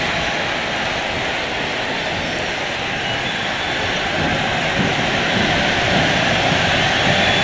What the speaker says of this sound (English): this is the loudest the crowd has been